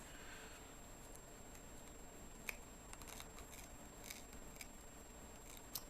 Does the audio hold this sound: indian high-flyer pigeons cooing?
no